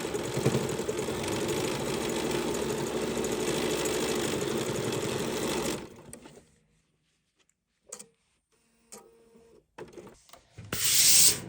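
A sewing machine stitches through fabric and batting for an embroidery sampler quilt block, running in a steady close whir for about six seconds, then stopping, followed by a few short bursts and a final brief run.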